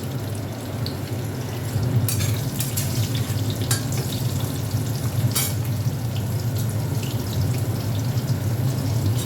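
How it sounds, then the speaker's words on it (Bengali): Black cumin (nigella) seeds temper in hot oil after pointed gourd has been fried, giving a steady hiss with a few sharp crackles and pops. "একটু কালো জিরে ফোড়ন দিচ্ছি"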